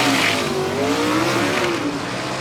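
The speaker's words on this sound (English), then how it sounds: "Keeps that throttle buried while he just tapping that clutch and shifting gears." A drag race car at Carolina Dragway in Aiken roars down the track at full throttle, its engine note rising and dipping through quick gear shifts, loud and continuous with no talk.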